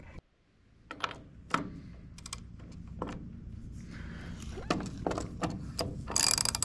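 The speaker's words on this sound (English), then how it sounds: "hope your ratchet's going the right way. What is going on with this ratchet?" A 3/4 inch ratchet wrench cranked by hand during a building move on a mountain, giving irregular bursts of sharp clicking strokes, close and moderately loud, over a steady low rumble of outdoor activity.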